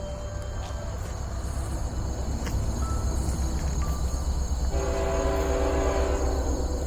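A Norfolk Southern freight train with a Tier 4 GEVO locomotive rolls past close by, a steady loud rumble of wheels and cars throughout, with a horn-like tone rising near the end.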